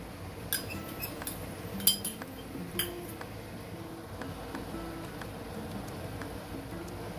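Metal spoon clinks against a bowl while ingredients for veg Manchurian gravy are mixed, a few scattered sharp taps over a low steady kitchen background.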